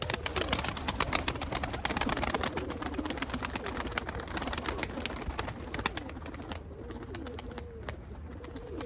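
Pigeons kept in a rooftop coop coo softly and repeatedly in the background, mixed with wing flaps, scuffling and ambient outdoor noise, with no talking.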